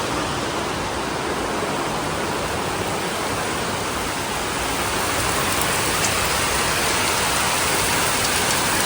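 Heavy rain pours down steadily during the monsoon, a dense, even roar of falling water with no pauses, loud and close throughout and heard without any voices.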